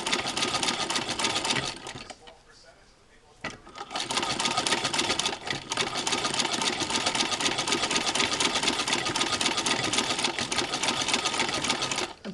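A Singer 15-88 with a zigzagger attachment stitches a small jacket at 30 stitches per inch, straining over thick layered seam allowances: a loud, dense close-up mechanical whirr with a brief pause before resuming steadily.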